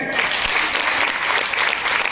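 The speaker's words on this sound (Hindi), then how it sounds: "मैं चाहता हूं एक बार जोरदार तालियां बजाएं" A crowd at a Hindu community meeting claps loudly for a woman who has just spoken, a thick, continuous wash of hands filling the whole moment, with no voices over it.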